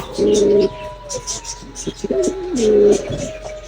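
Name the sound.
dove cooing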